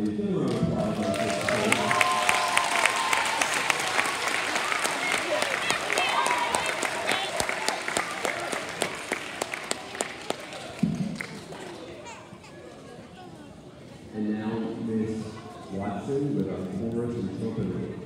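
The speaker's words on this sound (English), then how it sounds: "Give them a round of applause." Audience applause at a fifth grade graduation ceremony, a dense sustained crowd clapping for about eleven seconds before fading, with voices and chatter continuing afterward.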